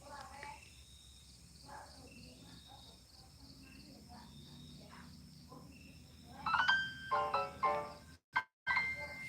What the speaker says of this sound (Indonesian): banyak notif masuk pula wah